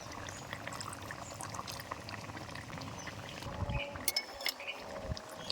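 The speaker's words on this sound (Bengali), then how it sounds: "সুন্দর করে আমি ঝোলটা ঢেলে নিলাম" Thick curry gravy with ground lentil paste and taro is poured out of a pan, a close, continuous liquid pour with a few clinks toward the end.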